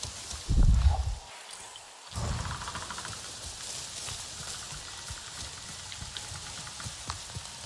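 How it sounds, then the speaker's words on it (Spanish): Rain in the video game Avatar: Frontiers of Pandora, a steady hiss of falling drops pattering on surfaces after a brief thump, continuous and even at moderate level. "Pero se pone a llover."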